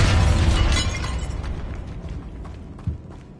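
A Bombarda blasting spell in Hogwarts Legacy goes off with a loud, shattering explosion at the start, then crumbling debris and rattling rubble that fade out, with one sharp thud near the end.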